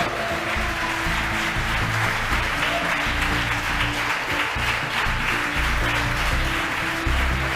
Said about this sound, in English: As you can tell behind me, the folks that watched the mission cheering